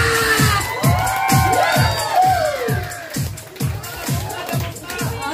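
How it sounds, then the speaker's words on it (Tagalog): A crowd claps in a steady rhythmic beat, with cheering and children's shouts layered over the applause. "Palakpak!"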